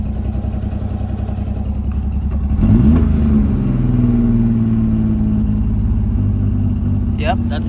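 A Suzuki Mighty Boy's small engine idles on its own with no throttle, a steady low close rumble that briefly swells and shifts pitch before settling into an even idle.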